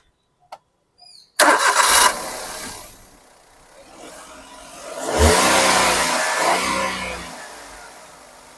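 Maruti Alto K10 car engine starting: a few faint clicks, then a sudden loud crank-and-catch, settling into idle before a swelling rev and a steady running hum.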